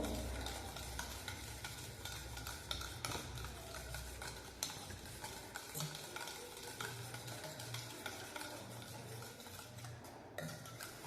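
Powdered sugar being whisked by hand into an egg mixture for a whole-wheat flour (atta) cake, a steady scraping, swishing stir against the bowl running continuously and fairly quiet, with no talking.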